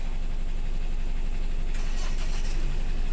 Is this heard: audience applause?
no